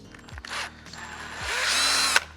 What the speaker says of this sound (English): So I've drilled that with my 4mm, and now I'm going to go in and open it up to 6mm.